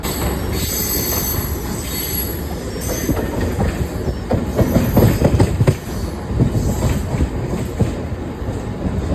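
A non-AC Mumbai local commuter train rolls along steadily with continuous rumbling, wheel clatter and occasional metallic squeal, loud and close throughout.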